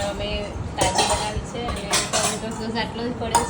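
A spoon mixing fresh butter and tomato sauce in a bowl clinks and scrapes irregularly against the sides, close by, with a faint voice in the background.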